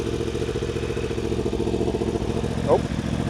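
A superbike engine drones steadily through a timed acceleration run, a mid-pitched roar heard at some distance with a brief squeak near the end and voices murmuring underneath.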